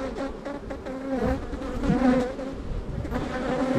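Dense honeybee buzzing at an opened hive after the super is lifted off with the queen excluder still in place, a steady close swarm hum that stays loud throughout with no talk.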